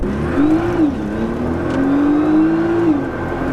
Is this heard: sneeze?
no